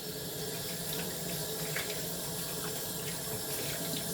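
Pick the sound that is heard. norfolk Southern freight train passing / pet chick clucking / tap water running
tap water running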